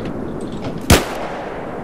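A single sharp gunshot rings out once, close and loud, in the Battlefield 3 video game, against a steady background of in-game noise with no talking.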